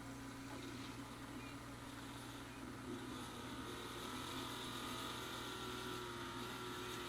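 A Maestri House detachable milk frother whisking milk, a steady, even mechanical hum and whir running continuously at low volume from nearby, with no speech over it.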